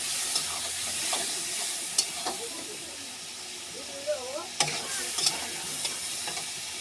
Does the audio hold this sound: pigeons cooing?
no